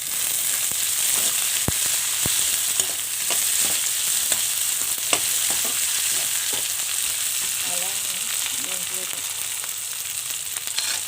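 Potatoes for veg fried rice fry in oil in a pan with a loud, continuous crackling sizzle and scattered spatula clicks and scrapes, close up and without speech.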